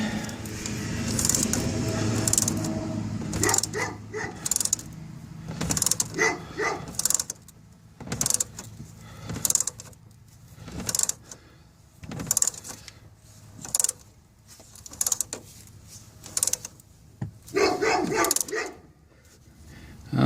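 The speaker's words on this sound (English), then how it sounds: "I wish somebody would surely shoot that stupid dog" A dog barks repeatedly at some distance in short sharp bursts, spaced irregularly over a faint outdoor background.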